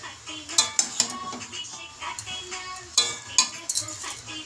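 A metal spoon stirs khesari greens, lentils and peas in a kadai, giving close, irregular scrapes and clinks against the pot.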